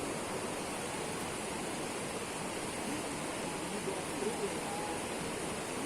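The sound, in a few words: river flowing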